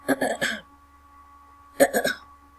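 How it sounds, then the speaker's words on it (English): Two bursts of throat clearing, each a quick cluster of three rasping pulses about a second apart, close and fairly loud, with a quiet steady hum in between and no talk. "I need to clear my throat."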